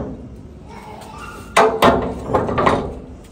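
A faulty car door is pushed shut with a couple of loud knocks and thuds, followed by a rattling bump as it fails to latch cleanly.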